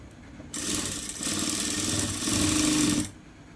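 A sewing machine with a straight presser foot stitches a blouse, running in a steady fast whir for about two and a half seconds before stopping, close and fairly loud.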